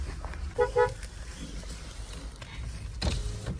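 Two short car horn toots close together near the start, then engine rumble and a thud of movement.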